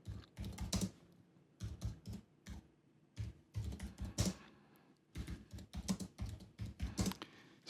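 Quiet bursts of keyboard typing, quick clusters of key clicks separated by short pauses, close and clear with no voices.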